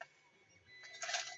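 A desktop printer finishing a print job indoors, with a short burst of mechanical whirring and clattering that rises near the end of the clip after a quiet start.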